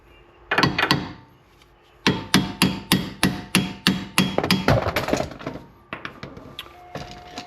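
A hammer strikes a seized CV axle on a 2004 Infiniti FX35. Two quick taps open the sequence, then about a dozen loud, evenly spaced metallic blows, trailing into lighter, faster knocks, up close.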